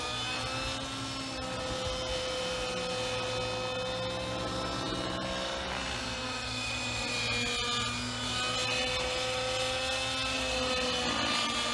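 A Gaui NEX6 RC helicopter with a motor still being broken in runs steadily on a cloudy day, giving a continuous whirring drone with a strong hum and high whine at a near, even level throughout.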